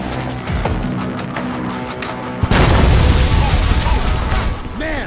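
Explosive blast blowing a hole in a wall in the video game Payday, a sudden heavy boom midway that swells into a loud sustained rumble over steady background game noise.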